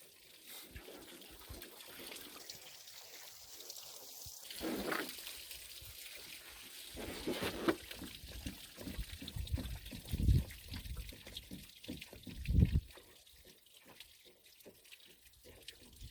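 Water pouring and trickling out of a plastic ballistic test jug after a .45 ACP shot, with gurgling bursts and louder splashes near the end, steady and close.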